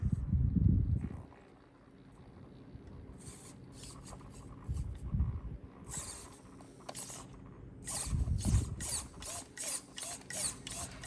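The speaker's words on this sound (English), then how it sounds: "No problem moving the servo while driving." A 1/18 brushless RC crawler drives along with faint low motor bursts and bright clicking, ratcheting bursts from its servo and gears, intermittent and close, growing busier toward the end.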